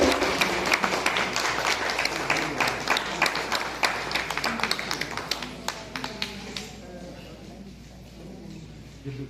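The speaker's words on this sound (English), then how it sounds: "A huge round of applause." A crowd at the Mechukha kayaking challenge men's kayak cross final applauds with scattered, lively clapping that gradually thins out, while a voice speaks over it.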